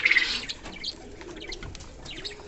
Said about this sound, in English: this is my king pigeon